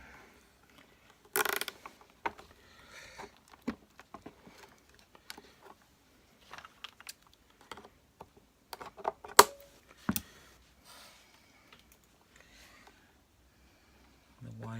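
A cable tie is ratcheted tight around the bellows of a Hoover Junior U1650 upright vacuum, giving faint, scattered clicks and rattles with long quiet gaps between them.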